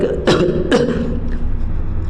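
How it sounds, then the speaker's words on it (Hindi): Two sharp coughs in quick succession, close and loud, followed by quiet room tone. "देखिए बोलते बोलते खांसी हो गया"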